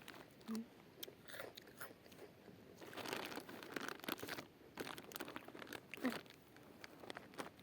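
Someone bites into crisps or dry bread croutons, a snack once heavily seasoned. The crunching is close and faint, with repeated sharp crackles and chewing that come in an irregular sequence.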